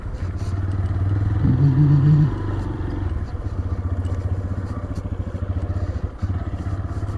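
A TVS Raider 125 motorcycle rides along a rough, unpaved farm track past fields and water, its steady engine drone loud and close with a brief revving rise early on and light rattling clatter from the bumpy surface.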